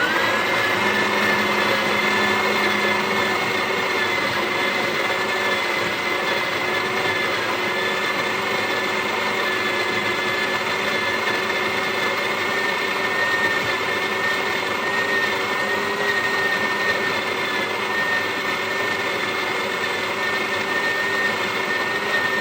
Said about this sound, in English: let's grind some coffee